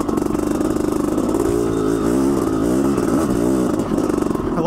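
A Honda CR500 two-stroke motorcycle labors up a steep mountain hillside in Canada, its engine roaring loud and close throughout with wavering revs and bursts of throttle.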